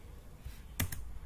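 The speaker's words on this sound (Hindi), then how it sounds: "यहाँ पर हम एंटर प्रेस करेंगे।" A single sharp keystroke on a computer keyboard, the Enter key pressed while working in billing software, a crisp close click over a quiet room.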